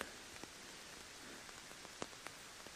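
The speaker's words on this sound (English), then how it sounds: "Don't know if you can hear that, but it started to rain." Rain falls on a solo wild camp in a soft, steady hiss, with occasional sharper drops ticking on a surface nearby; quiet and with no voices.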